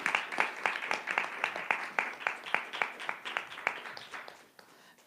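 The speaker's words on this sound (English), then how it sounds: "Let's give a round of applause to our EVP candidate." A small audience applauds a student executive vice president candidate after a campus election Q&A, a sparse, fairly close run of individual claps with a steady rhythm that thins out and fades over about five seconds.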